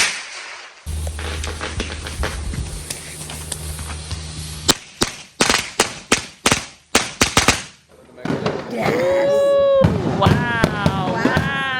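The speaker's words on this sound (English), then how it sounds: "And now some fireworks." Fireworks at a Caribbean Christmas celebration crack and pop in rapid volleys, then a string of sharp, separate bangs, followed by whistling, screaming rockets and scattered bursts, some close and loud, with voices faintly underneath.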